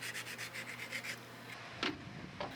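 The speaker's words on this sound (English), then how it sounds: "And then sand the edges smooth." Sanding the edges of a freshly cut part on a large-scale RC model plane, a steady rhythmic rubbing of repeated strokes near and up close, then a couple of sharper scrapes, with no talk.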